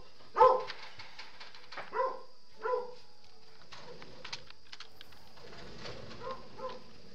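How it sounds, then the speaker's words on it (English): A dog barks in short bursts, three or four sharp, fairly close barks in the first few seconds, then softer scattered sounds over quiet game background audio. "My dog is a wild boy"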